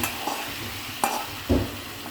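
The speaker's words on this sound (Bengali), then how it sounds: "যে কাঁচামরিচ ফোড়ন দিয়ে দিলাম" Green chilies hit hot oil for a haleem tempering, giving a soft, steady sizzle with a couple of brief stirring clinks and scrapes close by.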